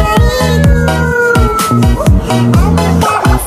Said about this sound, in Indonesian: Dan di sebelah sini juga ada mobil ambulans.